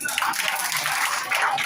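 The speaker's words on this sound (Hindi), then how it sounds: "इस बार ताली बजा दें" Audience at a coaching-centre student event clapping together, a brief, lively burst of close, dense applause.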